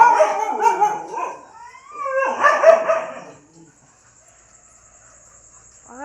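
Several dogs bark and howl at night in drawn-out, wavering cries for about three seconds, then fall quiet; a faint yelp returns at the end.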